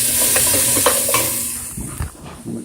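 Carrots and chopped vegetables cooking in a pot for soup, with steady sizzling and a few clinks and stirring scrapes against the pot, close and fairly loud, no talk.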